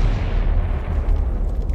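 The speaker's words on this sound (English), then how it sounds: "Reactor 3 is rocked by a hydrogen explosion similar to that in Unit 1" Dramatized hydrogen explosion at Fukushima Reactor 3: a loud, sustained low rumbling blast that fills the whole clip, heavy and continuous with no clear onset or break.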